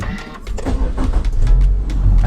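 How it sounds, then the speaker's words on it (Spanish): A Subaru Outback engine starts up with a short cranking clatter that rises into a low steady rumble, heard close and loud from inside the car, no voices. "Encendemos el coche"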